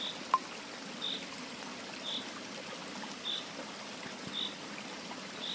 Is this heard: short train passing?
no